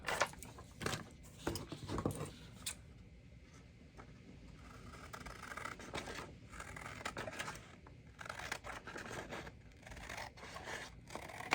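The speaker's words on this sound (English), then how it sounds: "Maybe do a little more trimming." Paper being trimmed with scissors for a junk journal, a run of short crisp snips and scraping rustles in bursts, close and fairly quiet, with no talking.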